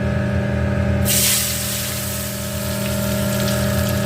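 Potato strips for French fries drop into hot oil, and after a moment of steady background noise a loud, close, broadband sizzle bursts out and keeps hissing evenly.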